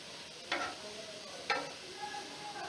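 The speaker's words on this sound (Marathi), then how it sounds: "ही दुसरी बाजूही आपण व्यवस्थित भाजून घेणार आहोत." Coriander vadi (kothimbir vadi) pan-frying on its second side, a faint, steady sizzle broken by two or three brief scrapes or taps of a spatula, heard alone.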